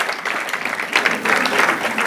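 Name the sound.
crowd cheering and applauding at a grand opening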